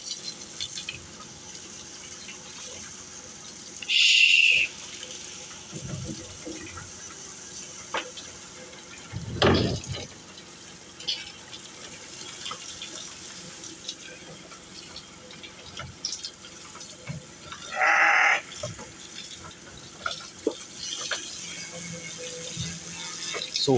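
Water is poured over a sheep being washed in a few separate bursts, splashing briefly, with quiet gaps and faint background noise between pours.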